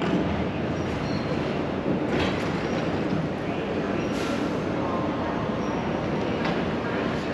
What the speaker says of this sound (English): so I'm just waiting for the train.